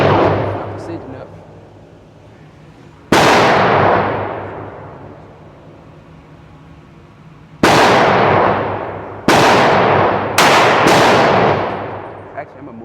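Five sharp, loud Glock 31 Gen4 pistol shots at a shooting range, widely spaced at first and then closer together, each with a booming echoing tail and quiet gaps between.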